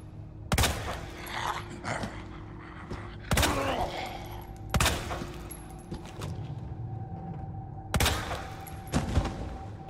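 Four loud, sharp gunshots from the Resident Evil 2 video game fire at irregular intervals, each a sudden blast that tails off, with quieter game noise in between.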